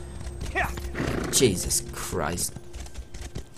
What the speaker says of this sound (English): I had to call on my horse!